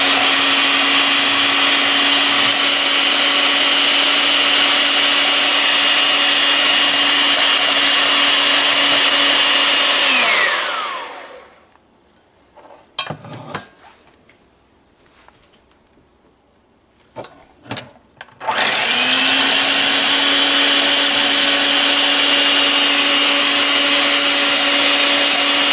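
An electric hand mixer whirs loudly and steadily as mayonnaise ingredients are beaten together, then winds down into a gap with a few knocks and clatters before starting up again at full, continuous whine.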